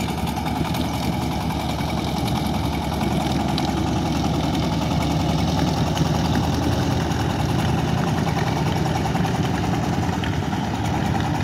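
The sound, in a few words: motor boat engine of fishing boat on Padma river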